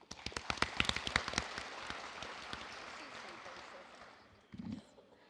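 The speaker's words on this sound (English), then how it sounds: "You should give yourself a round of applause." Applause at a high school scholarship night opens with a few loud, distinct claps and then settles into a broad, steady patter of many hands from the crowd. A brief voice cuts in near the end.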